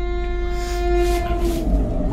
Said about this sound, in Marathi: ही बघा ही चालली आहे पुढे, ही साऊथ साईडला जाणारी आहे ट्रेन